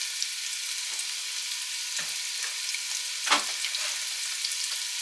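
Carrot pieces frying in oil with a soft, even crackle of sizzling, broken by a couple of sharper scrapes as they are stirred in the pan.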